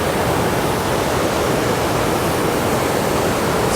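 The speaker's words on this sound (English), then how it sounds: "There's a lot of water coming through here." Water rushes steadily through a concrete channel and over eroded rock, a dense, unbroken roar like a small waterfall, close and constant throughout.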